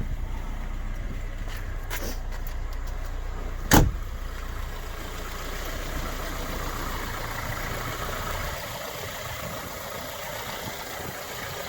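A 1986 Vauxhall Cavalier MK2 1.6-litre estate idles with a steady low rumble, broken early by a few brief clicks and one sharp knock, then settling into a smooth even hum.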